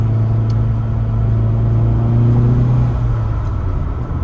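A turbocharged Audi S1 engine with manual gearbox roars steadily at close range, a deep sustained rumble with a slight rise in pitch partway through as it accelerates, no voices present.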